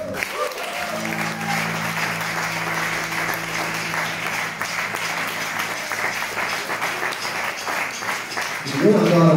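Concert audience breaks into loud, sustained applause and clapping at a Hungarian tribute evening, steady and dense throughout, with a brief swell near the end.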